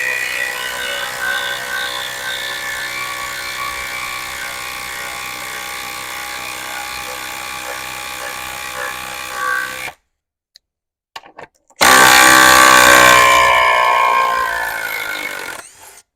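A Makita TD173 impact driver drives a large lag bolt into wood in one long, loud, steady run of about ten seconds. After a brief silence a second, shorter hard burst fades out.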